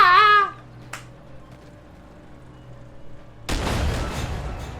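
A T-90 tank's main gun fires in Armored Warfare, a single loud blast that cuts in abruptly near the end and rumbles on, after a brief earlier crack and a stretch of quiet engine hum.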